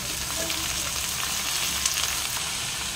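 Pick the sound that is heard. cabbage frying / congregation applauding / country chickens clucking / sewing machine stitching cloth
cabbage frying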